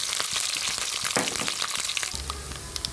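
Dense crackling and popping of mustard seeds bursting in hot oil, with curry leaves, ginger, garlic and green chilli, a steady busy spatter with a low hum joining near the end.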